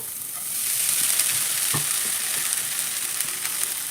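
A steady hiss of flattened rice (aval) sizzling and stir-frying with onions in a hot pan, with faint scraping of stirring and no voices.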